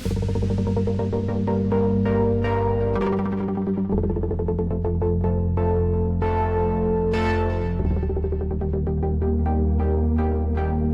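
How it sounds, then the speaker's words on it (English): A mellow, layered synth playing chords with rapid stuttering, chopped repeats, bell-like and continuous throughout. "make a chill, lush stutter synth that sounds like this"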